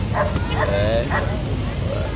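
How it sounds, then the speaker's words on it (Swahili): Trained police security dogs aboard police vehicles give several short, sharp barks and yips close by, while someone talks over them. "magari ya polisi ambayo yamesheheni pia mbwa wale wa usalama wenye mafunzo maalum kabisa"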